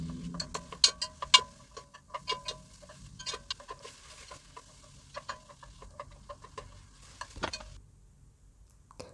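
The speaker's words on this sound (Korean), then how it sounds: "재워둔 소고기 살짝 볶아서 육수 만들게요. 중불에서 바닥이 타지 않게 볶아줍니다." Marinated beef stir-frying over medium heat in a pot for broth, a quiet patter of sizzling and scraping stirs with sharp clicks of a utensil against the pot, thinning out near the end.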